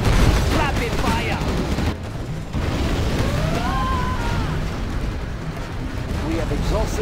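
Rapid gunfire and artillery-like blasts from units in C&C Generals Zero Hour, in a mission at the Wakhjir Pass: dense, continuous, loud battle noise with unit voice lines over it.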